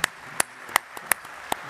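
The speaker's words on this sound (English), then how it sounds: "A round of applause, please." A few scattered, sparse hand claps from the audience at a U.S. Army symposium panel discussion, half a dozen distinct claps in a quiet hall.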